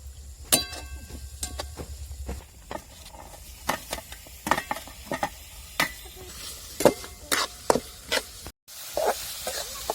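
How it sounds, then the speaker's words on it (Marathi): Green chillies and garlic are sautéed in a pan: a faint background sizzle under repeated sharp metal spatula scrapes and clinks in an irregular rhythm, close by, with a low hum at the start. "त्याच्यानंतर मिरची आणि लसूण परतून घ्यायचे"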